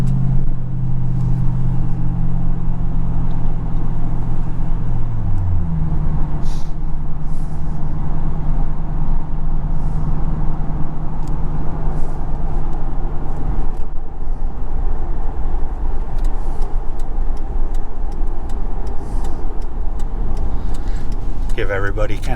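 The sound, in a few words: Ford Crown Victoria exhaust noise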